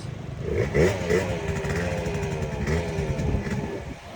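A Honda Dio motorcycle engine runs close by, idling roughly and rising in a few quick revs, loud and continuous with no talking.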